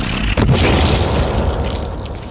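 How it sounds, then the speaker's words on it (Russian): A blast in the Sons Of The Forest survival game, used to break through a cave: one sharp, loud boom that swells into a long, heavy rumble and fades slowly over about two seconds. "Давайте, взорвем."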